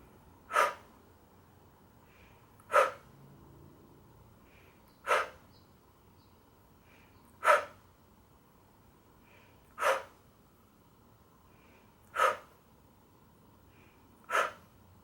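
Seven slow, steady breaths pushed out during a guided breathing exercise, each a soft airy whoosh arriving roughly every two and a half seconds against a quiet room, with no talking between them.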